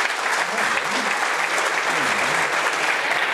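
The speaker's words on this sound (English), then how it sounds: "a round of applause for Lindsay." Audience applause for presenter Lindsay at a Lean Startup Melbourne meetup, a dense, even roar of many hands clapping throughout, with faint voices murmuring underneath.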